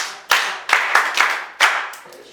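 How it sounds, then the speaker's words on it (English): Several quick bursts of hand clapping from a physics classroom of students, a few sharp claps in uneven rhythm rather than sustained applause, fairly close and alone without talk. "Please clap for her."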